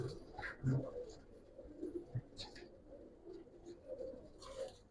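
Pigeons at a pigeon market give repeated low, rolling coos over a murmur of background market noise and distant voices, spread irregularly across the stretch.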